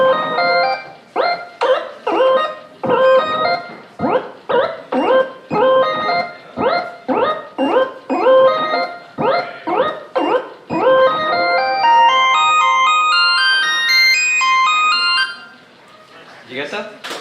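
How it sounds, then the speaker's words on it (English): A synthesizer on a Catalyst controller plays short, punchy organ-like notes in a quick rhythmic pattern, then a rising run of sustained tones before stopping. "I'll actually put a sound on which is a little bit more like a trigger instrument, like an organ"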